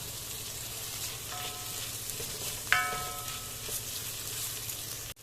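Chopped tomatoes dropped into a pan of frying onions, giving a steady moderate sizzle with a brief clatter of a utensil midway, close and without talk.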